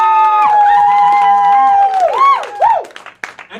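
Comedy show audience cheering and applauding to pick a winner, a loud burst of crowd noise with rising whoops that breaks off abruptly into scattered sounds.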